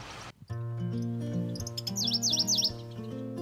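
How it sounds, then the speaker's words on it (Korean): A Pleske's grasshopper warbler, an endangered species, sings a quick series of three or four rising, buzzy trills on Chilbaldo island, South Korea, heard faintly over a steady droning hum. "들으셨나요? 드디어 포착된 멸종위기종 섬개개비."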